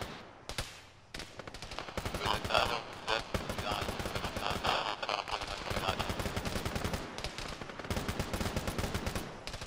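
Heavy automatic gunfire in an ArmA military mission, long rattling machine-gun bursts and scattered shots filling the scene almost continuously, loud and close, with brief pauses and radio-style voices underneath.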